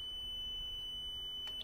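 The limit-switch alarm on an XTool D1 Pro 20W laser engraver gives a steady, high-pitched electronic beep, loud and close, as the laser head is driven into the side of the machine, then cuts off near the end.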